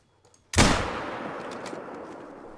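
A hunting rifle shot in theHunter: Call of the Wild cracks sharply out of near silence, loud and close, then rolls away in a long, fading echo across open terrain.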